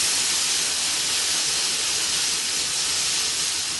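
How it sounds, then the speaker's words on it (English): Seitan searing in a hot pan: a loud, steady, close sizzling hiss that holds without a break, no talk. "So you're searing the meat. No, the seitan. I'm roasting seitan right now."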